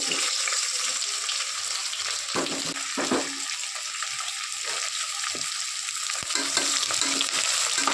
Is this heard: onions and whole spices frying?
yes